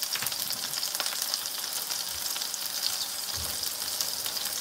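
Chicken sizzles and fries steadily in a pan, a dense, continuous crackle with occasional louder low pops, close and alone without talk.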